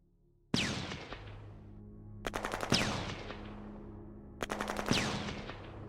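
Three bursts of rapid automatic gunfire from a tank battle video game, each a quick rattle of shots with a long ringing decay, spaced about two seconds apart and loud against a low rumble, with no talking.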